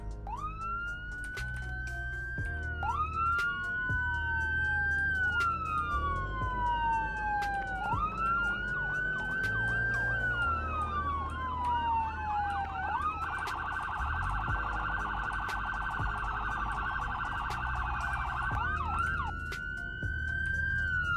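A police siren in the Roblox game Fort Loredo wails continuously, sweeping up and down in long rising and falling tones, then shifting into a steady high yelp before resuming the wail; loud and close.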